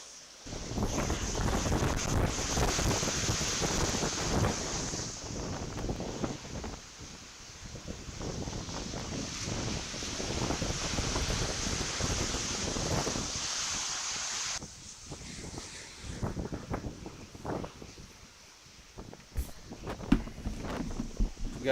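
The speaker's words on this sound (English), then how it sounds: "Yeah, that wind is quite strong." Strong hurricane wind from Hurricane Beryl roars across the open ocean, a loud, steady blustery rush with buffeting gusts and wind noise on the microphone, easing somewhat toward the end.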